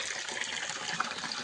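Water pours and splashes steadily for a buffalo to drink on a farm, a continuous bright gushing stream with small splashes, fairly close, no voices heard.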